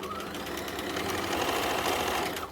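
Sewing machine running a reverse stitch while mending clothes: a fast, steady mechanical whir, close and loud, holding constant before easing off at the end.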